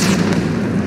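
A missile strike in Call of Duty Modern Warfare, a single heavy, loud boom with a deep rumbling low end that fills the moment.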